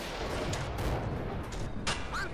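Shots from the main gun of a Pz.38 light tank in Steel Fury fire in a quick, sharp burst, with a metallic impact against a tree. The whole burst sounds quiet and faint.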